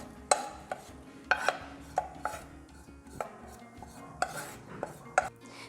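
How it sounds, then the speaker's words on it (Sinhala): Golden-fried garlic strained out of hot oil through a metal strainer: a string of sharp, close metallic clinks and taps, spaced irregularly over a quiet background, with no talking. "මේ වගේ සුදු ලුණු ටික රන්වන් පාටට බැදුනට පස්සේ අපි මේක මේ විදිහට පෙරා ගමු."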